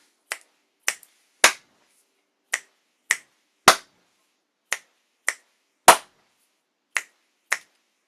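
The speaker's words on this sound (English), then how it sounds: "I'm snapping twice, then clapping once." A run of crisp, close finger snaps and claps, about eleven sharp hits spaced irregularly across several seconds, two snaps and then a clap repeated in a steady cycle with nothing between.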